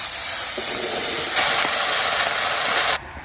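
Chopped taro leaves set to boil in a wok give off a loud, steady hiss of steam that runs evenly and then drops off sharply near the end.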